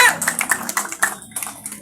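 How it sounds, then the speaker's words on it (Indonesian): A small audience of neighborhood RT heads at an Indonesian community gathering claps in short, uneven bursts. The clapping is fairly close and mixed with a few voices, then fades out. "Tepuk tangan dong buat kita."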